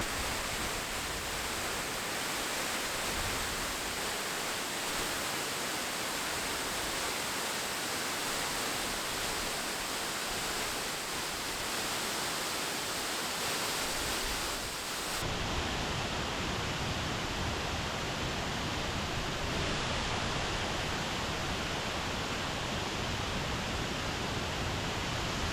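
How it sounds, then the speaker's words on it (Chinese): A waterfall in Shiretoko, Hokkaido, split into two streams partway down, roaring as a dense, continuous rush of falling water that shifts and grows fuller partway through, with no voices. "水流在瀑布的中段被一分为二，故有别名双美瀑布。"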